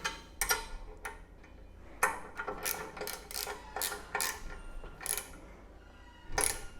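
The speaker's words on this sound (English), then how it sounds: "Pull them nice and tight, because this is going to be your last chance tightening these nuts before mounting the skid plate on the frame." Nuts on the skid plate brackets of a Yamaha XT 1200 Super Tenere being tightened: a series of sharp mechanical ratchet clicks in irregular bursts, close and fairly quiet, with no speech.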